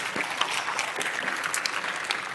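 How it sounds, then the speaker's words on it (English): A conference audience at a security Q&A panel claps steadily for a departing speaker, a dense, even wash of applause filling the whole short stretch. "Big round of applause to Luke"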